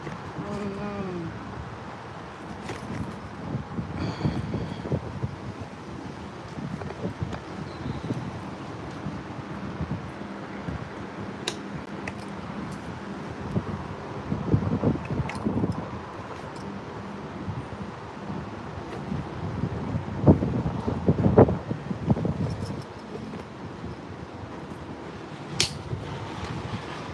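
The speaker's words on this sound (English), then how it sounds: "It is a little windy" Steady outdoor wind buffeting the microphone in a garden during potato and tomato planting, a continuous rumbling gusty roar with swells and brief knocks throughout.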